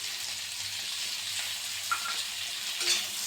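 A pan frying ingredients for a Bengali foli fish curry, a bright steady sizzle close by with occasional soft stirring sounds and no talk.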